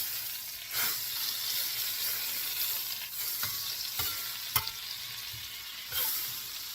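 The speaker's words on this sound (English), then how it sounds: "going to add a little bit of oil also, because I'm cooking in a cast iron skillet and it kind of needs to have some regular oil." Vegetables sizzle in oil in a cast iron skillet over medium heat, a constant hiss broken by a few sharp scrapes and clinks of stirring.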